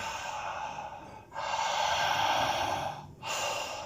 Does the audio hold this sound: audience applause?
no